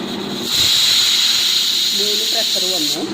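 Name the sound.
pressure cooker whistling steam while cooking black chicken curry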